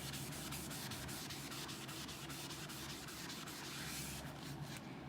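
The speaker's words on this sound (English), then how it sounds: "And the board eraser, I always use the nubby side first." A board eraser scrubs a whiteboard clean with its nubby side, giving a steady, continuous rubbing rasp with quick repeated strokes, close and alone throughout.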